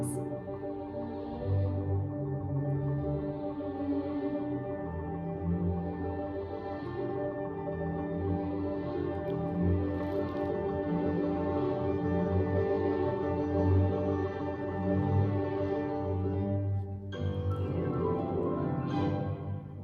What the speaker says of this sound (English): This is the Royal March of the Lion from Carnival of the Animals.